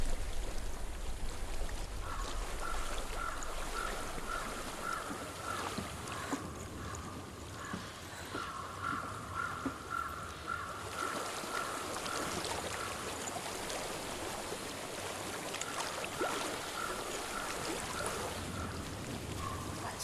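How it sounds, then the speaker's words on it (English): Flowing stream water in the game Hellblade, a quiet, steady rushing wash that runs the whole time, with faint tonal game ambience drifting over it. "I hear water."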